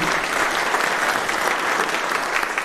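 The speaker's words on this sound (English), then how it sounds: "So just a round of applause for the camera crew." A town deliberative session crowd in Wakefield, New Hampshire, gives a round of applause for the camera crew, a loud, dense, continuous burst of many hands clapping close by.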